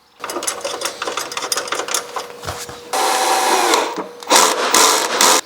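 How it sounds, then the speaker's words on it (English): A bolt being refitted on the front of a BMW R1200GS motorcycle with a power tool, buzzing in loud continuous bursts with a brief pause midway, close up. "now we need to refit the bolt on the front"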